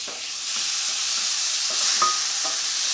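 Chopped tomato with salt and spices is stirred in a hot pan, making a soft, steady sizzle with a few light scraping strokes, close and quiet, with no voices.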